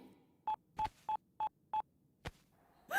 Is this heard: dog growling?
no